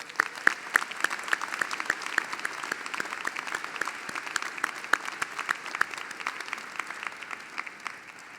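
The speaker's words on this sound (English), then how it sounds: "Let us now pause to give them all, these two often unheralded supporters of the class of 2017, a well-deserved ovation." Sustained applause from a large audience at the UC Riverside School of Medicine commencement and Hippocratic Oath ceremony, steady dense clapping with crisp individual claps standing out, no speech.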